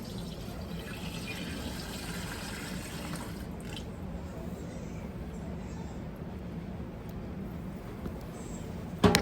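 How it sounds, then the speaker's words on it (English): Tea is poured into a banana wine mixture as a faint, steady trickle of liquid runs on with soft drips, ending in a small clunk. "So I'm going to pour the rest of my tea in."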